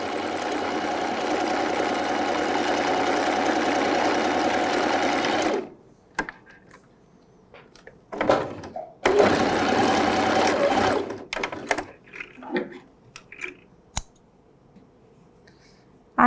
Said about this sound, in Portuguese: vamos fechar aqui com uma costura bem na beiradinha